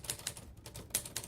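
Keys clatter on a computer keyboard as names are typed in, a short run of crisp irregular clicks close by, with a brief pause midway before the tapping resumes.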